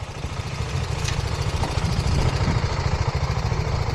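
A motorcycle idles steadily nearby after breaking down on a ride through Kutch, a low, even chugging throb with faint background noise and no talk.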